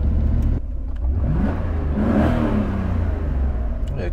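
A Mercedes 500SL engine runs unevenly at idle nearby, with a low, lumpy rumble and a swelling rev in the middle.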